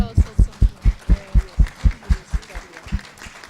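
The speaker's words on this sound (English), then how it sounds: "Big applause also." Conference audience applause comes as a steady rhythmic clapping, loud, evenly paced beats fading slightly toward the end, with no talk over it.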